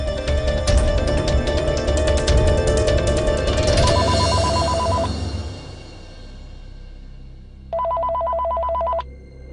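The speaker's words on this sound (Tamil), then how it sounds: "இந்த ராத்திரி நேரத்துல யார் ஃபோன் பண்றாங்கன்னு தெரியலையே." A telephone rings at night in a Tamil TV drama scene, an electronic trilling ring that sounds in two bursts over a low background hum, with a quiet gap between them.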